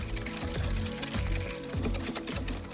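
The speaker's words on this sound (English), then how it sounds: "Then whisk the yolks and sugar together." An electric whisk beats egg yolks and sugar for an almond tiramisu, a quiet steady mechanical whirr with a faint periodic rattle against the bowl.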